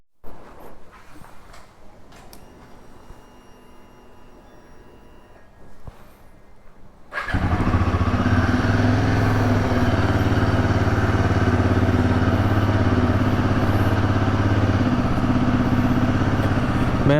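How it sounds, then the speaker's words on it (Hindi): A Royal Enfield Himalayan 450 motorcycle cold-starts after a quiet stretch with faint footsteps, then settles into a steady, loud, close idle that keeps running evenly to the end. "चलो मैं एक बार बाइक को कोल्ड स्टार्ट कर लेता हूँ"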